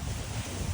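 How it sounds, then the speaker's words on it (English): Wind gusts across a home garden before a freeze, a brief, steady, rumbling roar of air buffeting the microphone, loud and close with no other sound. "Oh, Lord, the wind is coming"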